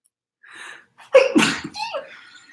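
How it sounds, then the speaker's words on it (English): A quick breath in, a short pause, then a single loud sneeze up close, trailing off into a breathy exhale. "Oh, I got to sneeze"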